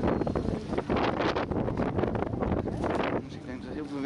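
Heavy storm wind buffets the microphone in a constant loud roar and rumble inside an abandoned factory, with gusts swelling and easing throughout.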